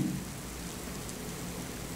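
Heavy rain pours in a steady, dense hiss with a low rumble of thunder underneath, continuous and fairly close, with no talking.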